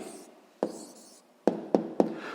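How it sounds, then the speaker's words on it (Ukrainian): A pen writes an answer by hand for a 6th-grade maths exercise, making a soft, near scratching. Four sharp taps of the pen on paper or the desk break through it, one early and three in quick succession. "Записуємо відповідь."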